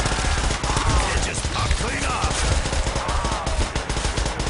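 Rapid automatic fire from a PPSh submachine gun in a zombie video game, dense continuous bursts running throughout with busy game sounds layered underneath.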